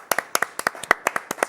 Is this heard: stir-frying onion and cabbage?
no